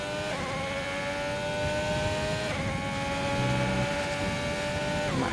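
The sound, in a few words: race car engine revving on downshift, racing video game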